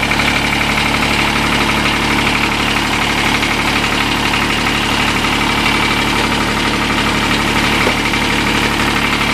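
A Kubota D722 small three-cylinder diesel engine idles steadily just after a cold start, a loud, continuous close-up drone with a fine knocking rhythm and no break.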